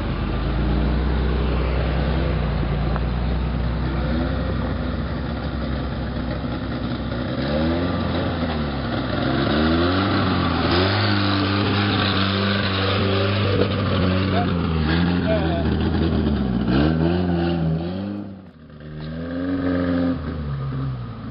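A car engine drives along the west side of McLean Creek, a trail area, its revs rising and falling in repeated sweeps. It runs loud and close throughout, with a brief dip near the end.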